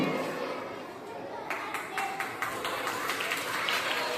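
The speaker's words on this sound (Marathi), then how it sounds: "सगळ्यांनी टाळ्या वाजवायचे" Audience clapping at a school annual prize-giving ceremony, scattered claps swelling into steady applause from a crowd in a hall, moderately loud, with chatter underneath.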